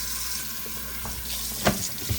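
Warm tap water runs into a kitchen sink in a steady hiss, with a few soft clunks and splashes as items are handled.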